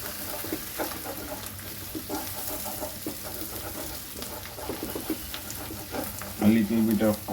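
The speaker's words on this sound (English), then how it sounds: "Now frying the eggs." Eggs sizzle and fry in a pan for fried rice, a steady soft crackle throughout with some stirring noise and a brief louder burst near the end.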